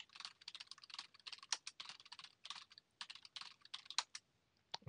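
Someone types a new password on a computer keyboard while logged into an Ubuntu server, giving quick, close, irregular key clicks in rapid bursts with no voices.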